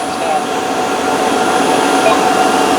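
A Tineco Floor ONE wet-dry vacuum runs in max mode with a steady, loud whirring drone that holds evenly throughout, close by and without a break.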